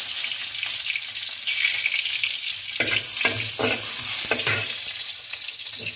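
Garlic stir-frying in hot oil in a wok, previously used for frying chicken, gives a steady bright sizzle with several sharper bursts of crackle and scraping stirs midway, moderately loud and close, no talking.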